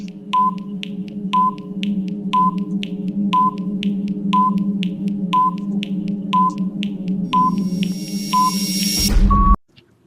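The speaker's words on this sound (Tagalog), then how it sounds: "Your timer starts now." A quiz countdown timer beeps about once a second, ten short tones in a row, then ends on a louder, longer buzzing burst before going silent; no one speaks.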